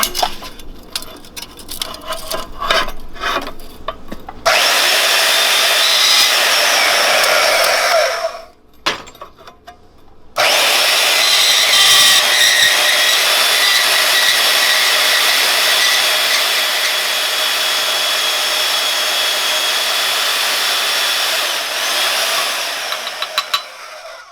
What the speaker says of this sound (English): I'm gonna cut a 7-inch piece off of this with the old bandsaw